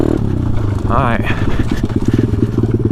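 A pit bike engine runs with a rapid rattling clatter, as though a stick were caught in it, steady and close throughout, with a person talking over it.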